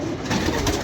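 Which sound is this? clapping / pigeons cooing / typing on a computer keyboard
pigeons cooing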